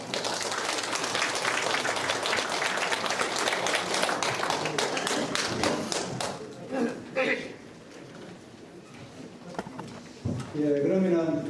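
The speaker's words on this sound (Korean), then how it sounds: "큰 박수 한번 해바랍니다." Audience clapping at the opening ceremony of a forum, a loud, dense burst of many hands for about six seconds that thins to scattered claps. Talking and a few knocks follow.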